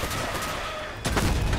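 Gunfire from a minelayer-style build in a combat video game, with a low rumble and then a sharp, loud burst of shots near the end.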